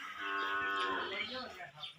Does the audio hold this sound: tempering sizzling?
no